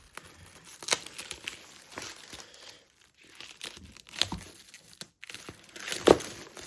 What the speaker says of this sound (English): let's get this thing unwrapped here. Some plastic foil.